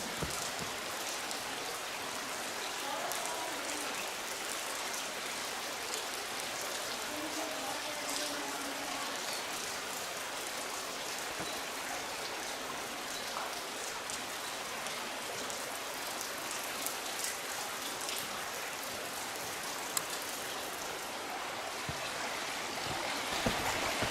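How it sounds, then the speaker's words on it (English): Steady broadband rush of a small waterfall on the Grand Canyon Trail, Blackheath, continuous and fairly close, with no voices over it. "A bit of a waterfall flowing from up there."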